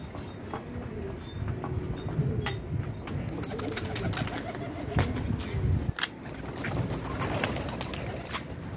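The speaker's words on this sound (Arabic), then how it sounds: "ها الحمام كياكل صافي، كيشرب خصو يطير" Pigeons cooing and moving about in a rooftop loft in Salé, Morocco, while being fed, with a steady murmur of low calls and scattered clicks and wing or foot sounds throughout at moderate distance.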